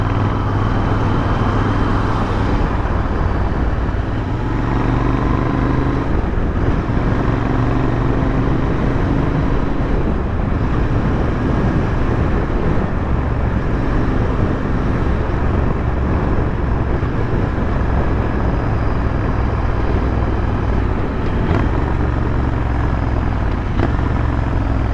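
Motorcycle fitted with an AEW TE102 exhaust riding through Bangalore at night, a steady, loud engine drone with low rumble and passing road noise throughout, no voices.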